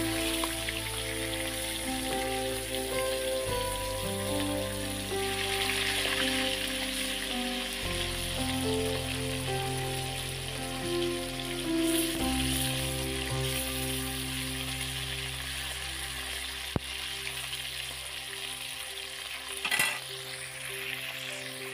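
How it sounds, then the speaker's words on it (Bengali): Fish frying one piece at a time in hot oil on a clay stove, a steady crackling sizzle that runs without a break, with small spits and pops now and then and no voices. "চলো মাছগুলো আমি এক এক করে ভেজে নিই"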